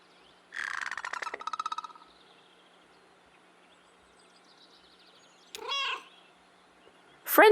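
A cat character in Kentucky Route Zero gives a series of distinct meows: a longer stuttering meow near the start, then a short meow and another rising meow after a quiet gap.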